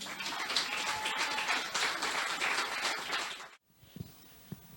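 Church congregation clapping in praise, a dense steady wash of applause that stops abruptly, followed by a few scattered claps and taps in a quieter room.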